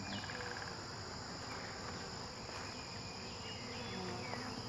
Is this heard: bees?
yes